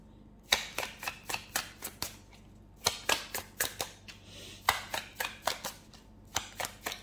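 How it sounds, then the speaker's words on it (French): Tarot cards shuffled in a rapid run of crisp riffling flicks, arriving in short bursts of about five or six snaps separated by brief pauses, close up with no talking. "Alors, on va prendre encore 2 cartes."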